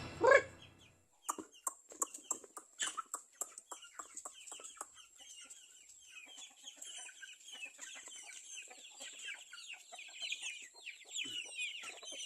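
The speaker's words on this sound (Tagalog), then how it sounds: "magpakain muna tayo sa ating mga alagang manok" Chickens cluck and squawk in a busy, overlapping flock, with short sharp calls scattered throughout after a brief louder opening cry.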